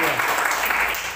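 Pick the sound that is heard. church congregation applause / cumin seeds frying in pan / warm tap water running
church congregation applause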